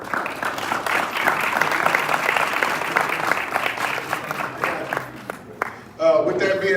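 Crowd applauds the coaches at a youth sports league Heisman awards ceremony, dense loud clapping that thins out before a voice starts talking over the tail end.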